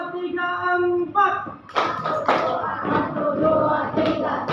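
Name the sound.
class doing a rhythmic clapping chant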